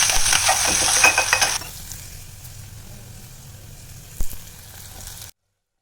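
Tomatoes and curry leaves frying in a pan, with a loud burst of sizzling at the start that quickly settles into a quieter, steady crackle, plus one brief clink partway through.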